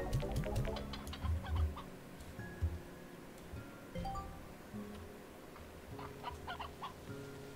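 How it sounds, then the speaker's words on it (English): Chickens cluck in a Slime Rancher 2 game scene, with several short bursts of clucking near at the start and scattered calls and tones continuing throughout, no talk. "Are there chickens back here? I heard them."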